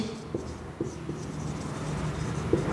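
Pen scratching on paper as an answer is written out during a Class 12 maths lesson, with quiet irregular strokes close up over a steady low hum.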